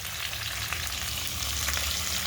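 Fish frying in hot oil gives a steady, close sizzle with fine crackling pops, fairly quiet and unbroken, with no voices.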